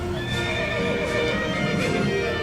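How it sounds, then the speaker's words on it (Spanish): Several horses neigh and whinny in repeated calls over a steady rural din, with faint hoof clops underneath and no voices. "y los pingos relinchando los llaman desde el palenque"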